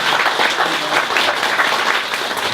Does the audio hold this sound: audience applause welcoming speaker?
yes